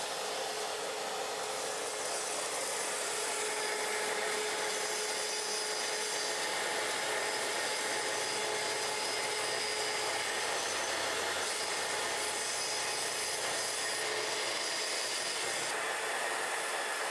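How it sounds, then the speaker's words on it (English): Power saw running at top speed as it bevel-cuts along a door edge with dust extraction, a continuous loud high whirring drone that holds steady throughout with no pauses. "Adjust the speed on the saw. Set it to top speed for a cut like this."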